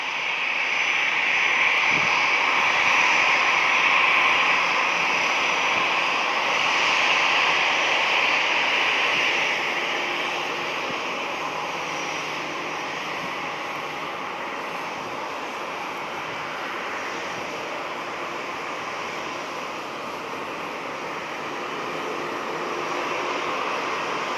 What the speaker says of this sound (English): Got an American A319 taxiing over here